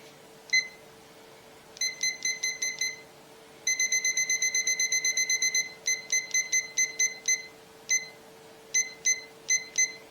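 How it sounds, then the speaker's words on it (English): A kitchen timer set for an oven baking at 350 degrees gives off bursts of rapid, bright electronic beeps in quick groups, loud and close, repeating over a steady faint hum with no talking. "I'm going to set my timer right here again."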